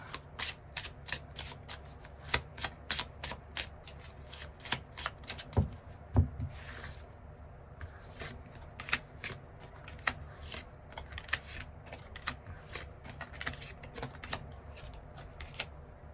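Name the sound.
shuffling tarot cards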